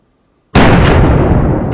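A single loud 7mm rifle shot in the Way of the Hunter video game, a sudden sharp blast breaking out of near silence and followed by a long, booming rumble that slowly tails off.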